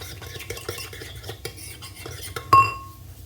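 A spoon stirs warming food in a pan, with rhythmic scraping and soft clatter against the metal, then a sharp ringing clink of utensil on pan near the end.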